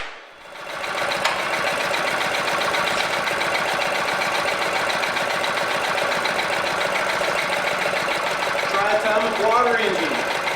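Triatomic water-powered engine running steadily, a loud, busy mechanical clatter with rapid knocking pulses that holds constant throughout, close by and with no voices.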